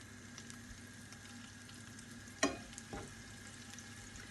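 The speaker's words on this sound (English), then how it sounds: "Now already I can hear them sizzling." Garlic fries in oil in a pan for a tomato pasta sauce, a faint steady sizzle with a sharp scrape or clink and a softer knock partway through, with no voices.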